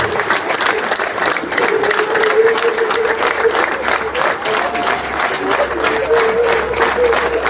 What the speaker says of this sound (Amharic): ጅማሬው በጭብጨባ ነው፣ ሽኝቱም በጭብጨባ ነው